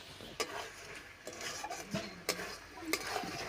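Spice paste being fried and stirred in a pan for a Bengali meat and cauliflower curry, with irregular scraping strokes of a spoon over a soft sizzle, close and fairly quiet.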